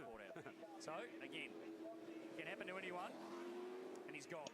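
A Super2 Series race car accelerates away on the Adelaide street circuit, its engine droning steadily beneath continuous commentary.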